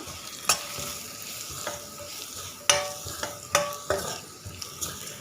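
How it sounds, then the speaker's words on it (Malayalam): Clam meat stirred in a pan with turmeric, coriander and masala powder: a low, steady sizzle broken by several sharp spoon clinks and scrapes against the pan, spaced irregularly, with no talking. "1 നുള്ള് മഞ്ഞൾപ്പൊടി, 1 ടേബിൾ സ്പൂൺ മല്ലിപ്പൊടി, 1 ടേബിൾ സ്പൂൺ മസാലപ്പൊടി എന്നിവ ചേർത്ത് നന്നായി ഇളക്കി കൊടുക്കുക."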